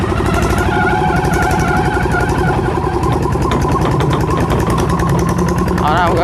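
A small Thai big-frame motorcycle engine runs steadily and close up as the rider shifts into second gear, a throbbing mid-pitched drone with someone talking over it.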